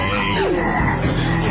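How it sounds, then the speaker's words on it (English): Frogs croaking in a dense, continuous chorus of low rhythmic croaks, loud and close, with no talking. "now I want you to see these frogs."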